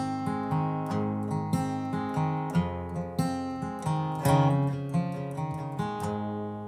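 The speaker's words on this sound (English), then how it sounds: "That opening lick sounds something like this." Solo acoustic guitar picks the opening lick of a song in a slow, plucked melodic run of single notes over ringing bass tones, close and clear with no voice.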